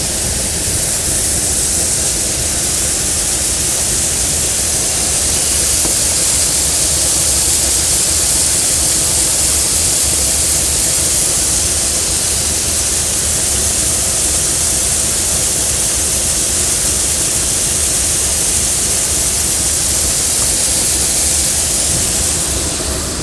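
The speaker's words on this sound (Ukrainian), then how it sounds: "Вітер такий дме нереальний." Strong wind roars steadily across a farm field during soybean sowing, a dense, hissing rush of noise that never lets up, loud and close throughout.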